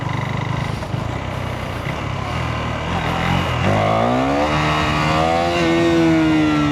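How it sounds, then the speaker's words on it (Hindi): A KTM Duke 390 motorcycle engine roars and revs, the pitch climbing steadily as it accelerates hard in first gear during a power wheelie. "तो ये हो गई पावर व्हीली फर्स्ट गियर पे जो भी करते हैं हम"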